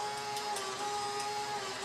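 A tall glass washer's built-in printer runs out a printout, a steady close buzzing whir with a faint rhythmic ticking throughout, no voices.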